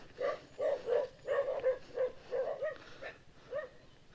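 Dogs bark in a series of short, evenly spaced yips and bow-wows at moderate distance, roughly a dozen barks in quick succession with no talk over them, heard on a scooter ride out of Cavite toward Talisay.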